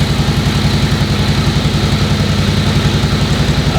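A Harley WL motorcycle engine runs steadily at idle while warming up, its low, even pulsing loud and close throughout.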